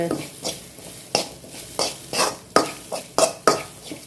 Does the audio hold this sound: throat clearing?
no